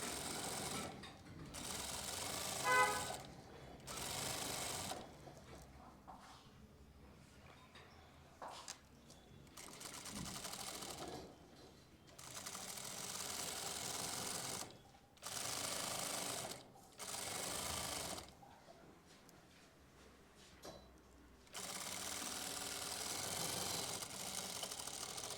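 A sewing machine runs close up in repeated bursts, stitching a zip onto bellbottom pants with a very fine seam right along the edge, its steady whirring stopping and restarting several times with short pauses between runs.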